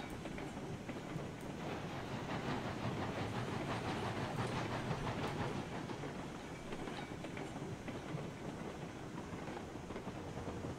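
A train rolls along the track in the RailRoads Online video game, making a steady rumbling clatter of wheels on rails that stays continuous and fairly even throughout.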